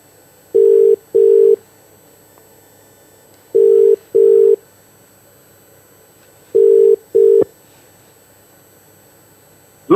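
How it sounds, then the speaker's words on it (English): A telephone call being placed, heard as a ringing tone of paired buzzy pulses repeating three times at even intervals over a quiet line with faint hiss. "We're talking to Gear Changer on the phone."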